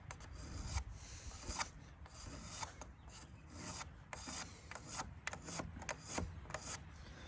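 A file rasping along the blades of hoof nippers, a close series of quick uneven scraping strokes repeating throughout.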